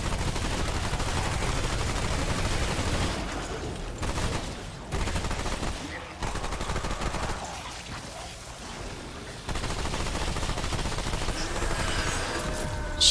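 Rapid automatic gunfire from a gun in Remnant 2, sustained sprays of fast shots, loud and close, running in long bursts broken by brief pauses.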